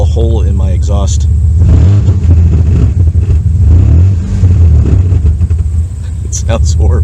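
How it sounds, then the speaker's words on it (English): A car engine with a small hole in its exhaust revs loud and close with a raspy, blatting exhaust note rising and falling, while someone talks over it. "A little hole in my exhaust."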